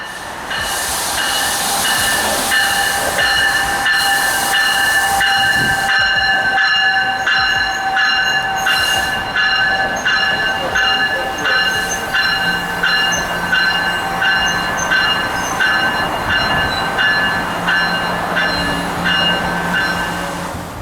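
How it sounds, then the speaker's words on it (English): An NJ Transit New York-bound train from Dover pulls into a Newark station platform with a loud, sustained rumble of rolling cars, steady high-pitched wheel and brake squeal, and rhythmic clatter over the rails, close by with no talking. "a New York-bound train from Dover pulls in a few minutes early"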